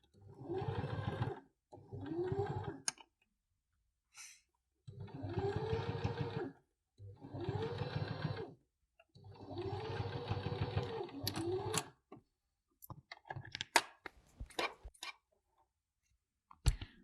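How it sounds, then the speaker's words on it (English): A domestic sewing machine top-stitches a seam on a fabric bunny pouch in several whirring runs of a few seconds each, separated by short pauses, followed by scattered handling clicks, close and alone. "I can get my top stitch seam nice and close to that previous seam"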